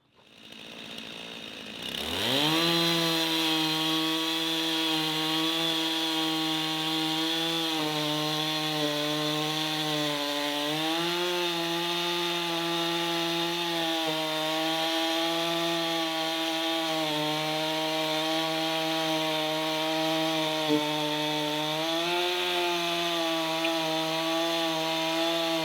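A 391 chainsaw fires up about two seconds in, then roars loud and close without pause, its engine pitch sagging and recovering as it bites into wood for a test cut; no one speaks.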